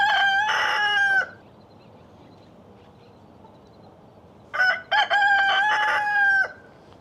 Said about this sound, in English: Apparently my rooster wants to be part of this video